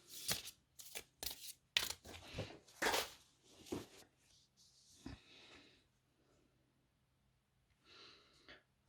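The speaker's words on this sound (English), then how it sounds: "while I shuffle the cards." Tarot cards are riffled and shuffled in quick bursts of crisp flapping and snapping, close and faint, trailing into quieter shuffles with pauses.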